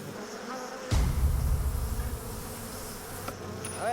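A dense, continuous buzzing of many bees swarming close by, loud and steady with a low droning hum throughout.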